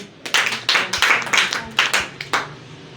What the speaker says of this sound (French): On peut encore applaudir pour Mohamed.